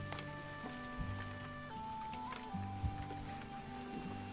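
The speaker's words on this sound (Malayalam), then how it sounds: "നല്ല സ്മൂത്താണ് ചെടി നനയ്ക്കാൻ, നല്ല മഴ പെയ്യുന്ന ഒരു ഫീലാണ് കേട്ടോ ഇതിൽ നിന്ന് നമുക്ക് കിട്ടുന്നത്." Water sprinkled over potted Chinese balsam plants from a rain-like watering device: a steady, soft hiss of falling droplets, with faint tonal hums and a few light taps throughout.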